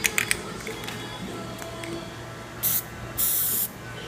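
Two short hissing bursts from an aerosol spray paint can painting a Chevy bowtie emblem, the second longer, against a steady background hum with a few clicks earlier.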